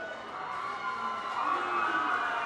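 The crowd at a Navy versus Police rugby match cheers and roars in a steady, swelling wash of massed voices that grows slightly louder toward the end and carries no clear speech.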